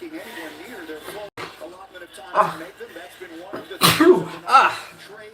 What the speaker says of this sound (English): Oh, I think I have to sneeze, guys.